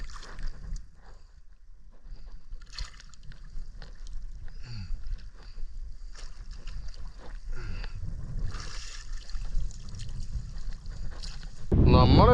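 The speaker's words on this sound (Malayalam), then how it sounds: "നല്ല കാറ്റുണ്ട് സൗണ്ട് നിങ്ങൾക്ക് എങ്ങനെയാണെന്നറിയാൻ പറ്റും" Strong wind buffets an open fishing boat at sea, a steady low roar and rumble of gusts and water throughout, with a sharp loud burst of noise near the end.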